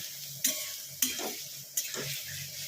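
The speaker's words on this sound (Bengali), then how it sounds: "একটু জল দেবো, দিয়ে ভালো করে কষিয়ে নেব।" Spiced kidney bean masala stir-fried in a pan, a steady sizzle punctuated by three sharp spatula scrapes against the metal, close and alone.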